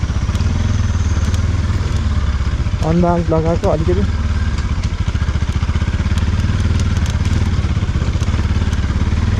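A motorcycle engine chugs steadily and loudly while riding on a slippery road during lockdown, its rhythmic putter running throughout as someone talks briefly over it.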